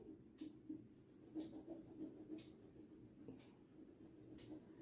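Soft, steady scratching of a sharpened pencil coloring across paper, faint and close, in short repeated strokes with no talking.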